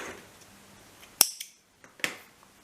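Scissors snip through crochet yarn in two or three sharp, close metallic cuts, with quiet pauses between them and no talking.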